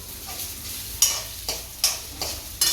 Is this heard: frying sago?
yes